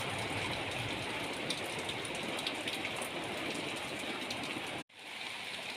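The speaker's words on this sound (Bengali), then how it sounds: "বেশ ভালোই বৃষ্টি হচ্ছে আজকে।" Heavy, steady rain pours down outdoors among garden fruit trees, a dense continuous hiss close by that cuts out for a moment near the end before resuming.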